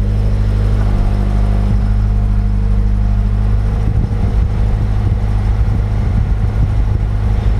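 A modified car engine idling cold just after its first start, a steady deep rumble holding low and loud throughout with slight fluctuations, close up with no talk.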